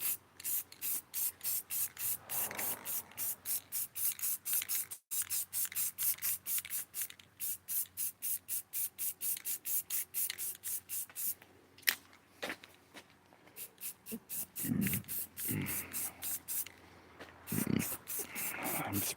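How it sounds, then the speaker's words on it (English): Spray paint hisses in a long series of short, rhythmic bursts over a stencil on a wooden sign, close and crisp, with a few brief pauses and some quieter handling noises near the end. "I'm spraying towards the car"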